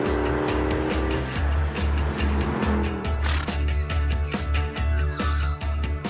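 A Mercedes-Benz Black Series with a 6.2-litre, 507-horsepower engine driving, its deep engine note droning loud and steady with rhythmic pulses throughout, mixed under music.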